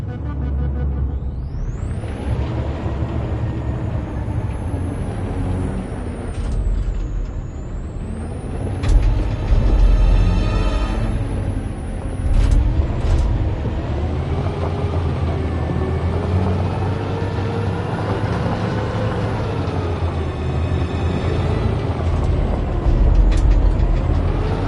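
A truck in the video game Detroit drives on with a steady loud engine drone and heavy road rumble, punctuated by an air-brake-like hiss and mechanical clanks, with no talking.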